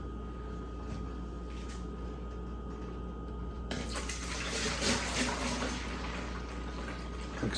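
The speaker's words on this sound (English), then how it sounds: "So we're going to get our wort transferred." Beer wort for a one-gallon Irish red ale pours into a fermenter as a steady liquid rush over a low constant hum, growing louder and brighter partway through.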